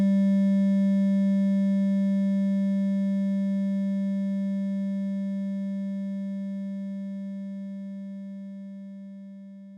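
A single sustained note from an Argon8 synthesizer on a soft, long envelope, a smooth pure tone with even overtones that holds steadily and slowly fades over about ten seconds, alone with no other sound.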